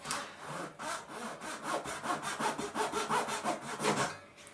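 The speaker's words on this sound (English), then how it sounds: "you can see I'm just cutting this out now." Quick, even strokes of a fine saw cut out balsa wood model plane ribs, a rhythmic rasping back-and-forth heard up close and fairly quiet.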